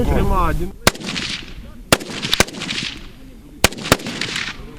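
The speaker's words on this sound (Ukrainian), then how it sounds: "офіцери запасу стріляють по мішенях з автоматів" Sharp automatic-rifle shots at an outdoor military range during reserve officers' target practice, five cracks spaced irregularly with echoing tails, while someone speaks at first.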